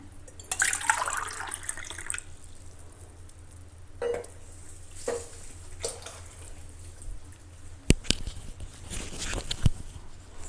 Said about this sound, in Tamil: மூணு டம்ளர் தண்ணி ஊற்றிக்கிறேங்க.